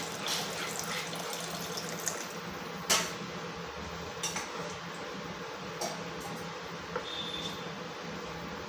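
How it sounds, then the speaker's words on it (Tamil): A faint, steady stream of water pours continuously into a lentil-dumpling curry, with a few soft clicks and taps now and then. "அதிலே நான் தண்ணி சேர்த்துருக்கேன்"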